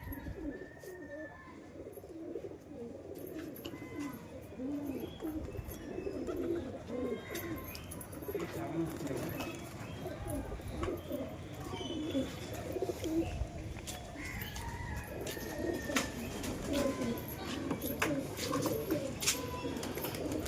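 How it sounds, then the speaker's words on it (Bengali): Domestic pigeons coo on an open rooftop as young birds are released and take off, soft rolling coos repeating steadily under a constant outdoor background hum, with no clear wingbeats standing out. "তো ভিওয়ার্স কবুতর মোটামুটি দশ মিনিট উঠল আজকে"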